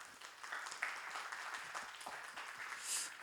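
A small church youth congregation applauds for a few seconds, a soft, even patter of clapping with no voices.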